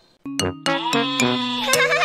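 Several wavering sheep bleats in quick succession, close and clear, with no talking.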